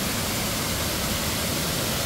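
Loud, unbroken rushing roar of a waterfall at Plitvice Lakes, close and enveloping, with no voices over it.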